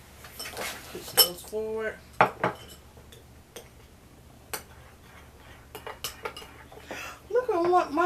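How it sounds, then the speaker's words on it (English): Utensil stirring glitter slime in a container, producing scattered clicks and scrapes of varying loudness, close by, with brief speech and some whistly vocal sounds in between. "Now let's stir this up."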